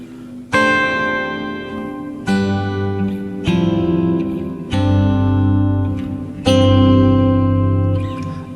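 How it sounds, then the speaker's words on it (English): Electric guitar through a Helix Plateaux shimmer reverb on stock settings, five strummed chords ringing out one after another, each leaving a bright pitch-shifted wash that blends into the next, played alone. "this is essentially like a shimmer type reverb"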